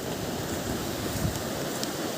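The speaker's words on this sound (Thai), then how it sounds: "ฝนตก ฝนปลอยครับผม" Heavy rain falls outdoors at a riverside fishing spot, a steady, dense hiss that fills the whole moment without pause and with no voices.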